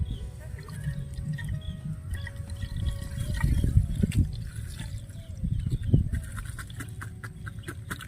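Caustic soda (NaOH) solution is stirred slowly in a container, giving a low, continuous liquid swirling with occasional soft knocks and clicks, close up and without any voices.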